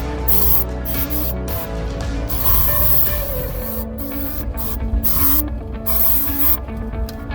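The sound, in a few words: aerosol spray inside a car cabin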